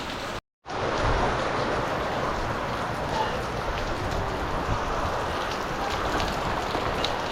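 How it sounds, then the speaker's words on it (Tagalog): Heavy rain pours down steadily ahead of an approaching typhoon, a dense, loud, continuous hiss after a brief break near the start, with no talking. "Pero lakas ng ulan, meron na."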